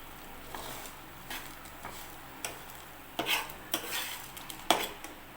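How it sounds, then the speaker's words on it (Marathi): Red chillies and lentils being dry-roasted in a pan for sambar powder are stirred with a spoon, giving close scraping and clinking strokes at irregular intervals over a soft background hiss. "आता याला 5 मिनटं कमी गॅसवर चांगलं खरपूस असं"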